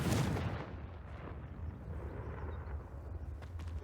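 A Confringo fire spell from Hogwarts Legacy bursts loud and close at the start, a heavy explosive blast whose rumble decays into a sustained low roar and crackle over several seconds, with no talk.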